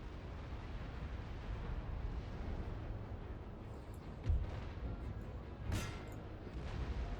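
Naval cannon fire in Napoleon Total War, with booms rumbling at a distance and two heavier blasts standing out over a constant low roar of battle ambience.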